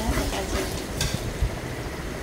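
Whole spices such as cinnamon and cardamom dropped into hot oil in a pot for chicken curry hiss in a continuous close sizzle, with a few soft knocks and stirring sounds.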